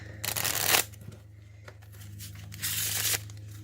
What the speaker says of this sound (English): the cards can be completely shuffled.